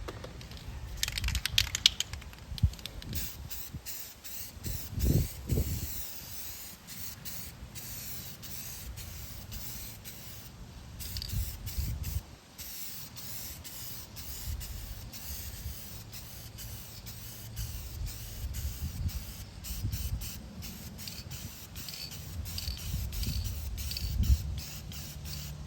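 Spray paint hisses onto an arcade cabinet during restoration, steady close aerosol spraying in repeated passes with short pauses, mixed with handling clicks and rustles and no talking.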